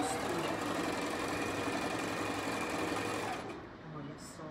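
A sewing machine runs a steady, fast mechanical hum while stitching back over a tote bag seam from start to finish, close and loud, then it slows and drops off near the end.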